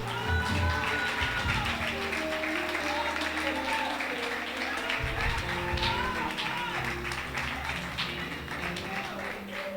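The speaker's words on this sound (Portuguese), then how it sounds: "Você pode aplaudir ao Senhor nessa noite?" A church congregation at an Outubro Rosa service applauds in a dense, steady wash of clapping that lasts throughout, moderately loud and mixed with faint voices.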